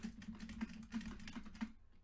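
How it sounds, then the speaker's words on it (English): Computer keyboard and mouse pounded hard while playing Minecraft, a rapid, close clatter of loud key strikes and clicks for about two seconds before stopping abruptly. "Aggressively pounds mouse and keyboard."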